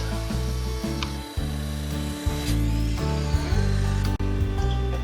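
A power tool cuts 3/16 inch mild steel legs to length for an Ugly Drum Smoker, producing a loud, continuous droning grind whose pitch wavers as the blade bites, with a brief dip near the end.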